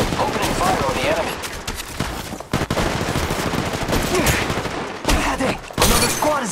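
Bursts of rapid gunfire from an Apex Legends Mobile firefight, loud and nearly continuous with short breaks, layered with game effects and occasional voice.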